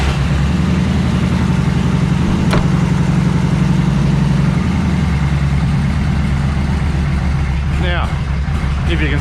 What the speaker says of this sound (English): It's got a little key down here, and the fuel pump prime up, and it starts as good as it always did.